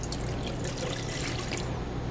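Water is poured steadily into a bowl holding an egg to make batter for baccala, giving a continuous splashing trickle up close with no speech.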